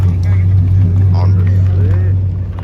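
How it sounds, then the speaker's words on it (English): A Dodge Demon 170 superstock car idles close by at a crowded car show, its deep, steady engine drone loud and constant while people talk over it. "We got the superstock over here. It just pulled up."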